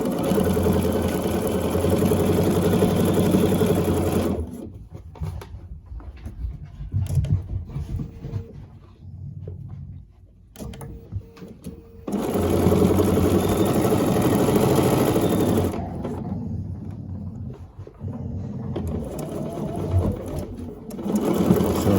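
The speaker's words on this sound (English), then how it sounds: "Okay, we're at our Bernina here." Bernina sewing machine stitching quilt strips together, a steady close mechanical whir in long runs broken by quieter pauses between seams.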